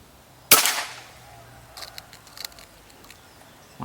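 A single sharp crack from a Predator Bocap Gorila X2 PCP air rifle, close and loud, fading quickly, followed by faint metallic clicks and rustling.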